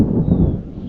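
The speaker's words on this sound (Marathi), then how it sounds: "आणि या बाजूला आवाज येतो आहे का तुम्हाला, कडकडतं आहे." A sharp crack of thunder splits the air during a heavy Konkan monsoon downpour, then rolls into a low, loud rumble that fills the brief moment alone.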